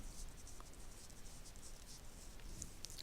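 Pen writing on a folded paper flap, a soft continuous scratchy rustle with a few brief faint ticks near the end, close and quiet, with no voices.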